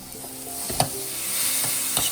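Garlic, a jalapeno and chopped red onion sauteing in olive oil give a steady close sizzle, broken by a few soft stirring scrapes against the pan.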